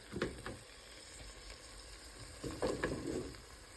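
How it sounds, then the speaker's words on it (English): Chili mixture frying and being stirred in a pan for a home-cooked dish, with a soft steady sizzle and two bursts of scraping stir noise near the start and later, no talking. "And you continue mixing that up until it's all fried and brown"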